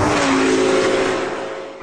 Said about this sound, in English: sometimes it changes gear very violently